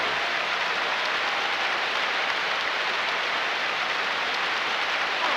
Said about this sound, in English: That rain is really rewriting the playbook out there today.